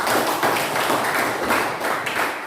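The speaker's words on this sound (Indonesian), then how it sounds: "Sebelumnya berikan tepuk tangan untuk Anda dulu." Dense applause from a classroom group, steady clapping that swells and dips slightly over a few seconds, fairly close.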